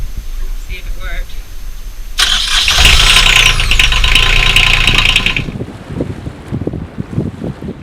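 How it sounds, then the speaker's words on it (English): Boat engine cranking and catching after a quiet, windy stretch, then running loudly nearby for a few seconds before dropping away, with wind noise on the microphone. "Start the engine, see if it worked."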